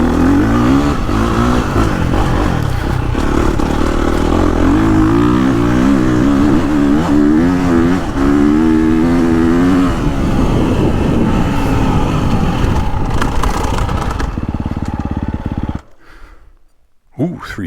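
A Honda CRF250R or KTM 350 four-stroke dirt bike engine revs and climbs through wavering pitch, loud and close for most of the stretch, then fades and cuts out near the end. A voice is heard over it.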